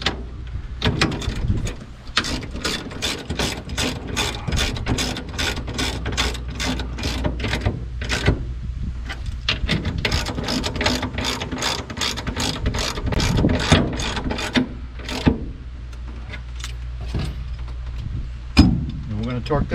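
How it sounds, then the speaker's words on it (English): A ratchet wrench tightening jam nuts on a fifth wheel hitch, a loud, close run of quick clicking strokes in repeated bursts with brief pauses, while someone talks over it. "Now we're going to tighten these two jam nuts up."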